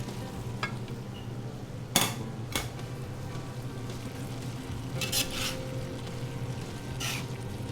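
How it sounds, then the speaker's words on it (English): Italian sausage being stirred in a sizzling pan, a steady low fry under sharp scrapes and clacks of the utensil against the pan at irregular moments, close and fairly quiet. "Mix that up a good bit."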